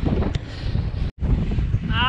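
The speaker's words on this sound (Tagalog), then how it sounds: "Lakas ng hangin." Strong wind rushes past the microphone while cycling, a loud low roar that cuts out for an instant midway and then returns.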